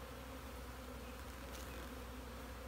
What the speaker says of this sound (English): You can see there's a whole bunch of bees flying around here right now.